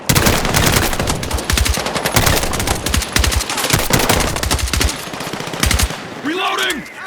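Sustained automatic machine gun fire in Battlefield 6 combat, loud rapid bursts with brief gaps, continuing for several seconds before easing into quieter battlefield noise near the end.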